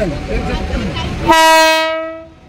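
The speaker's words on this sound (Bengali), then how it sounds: "ट्रेन आइपुग्यो अब ट्रेनमा चढ्ने ट्रेन आइसकेको छ" A train pulls into a station platform with a rumbling, noisy approach. A loud, sustained horn blast follows and then fades out.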